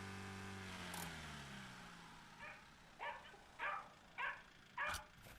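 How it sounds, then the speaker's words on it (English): A dog in the driving game Drive Beyond Horizon barks in a series of four or five short, evenly spaced barks, muffled as if from inside a barrel, over a steady engine drone. "Never heard the dog before."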